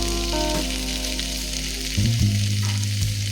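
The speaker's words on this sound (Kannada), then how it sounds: "ಈಗ ಇದು ಚೆನ್ನಾಗಿ ಫ್ರೈ ಆಗಿದೆ." Food fries steadily in a pan with a constant loud sizzle and a hum of the stove underneath, a short shift in the pitch partway through, with no voices.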